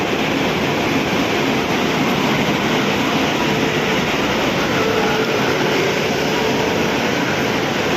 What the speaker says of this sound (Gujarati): ટ્રેન આવે છે આ રહી જમ્મુ તવી અમદાવાદથી જમ્મુ તવી આપણી ટ્રેન આવી ગઈ છે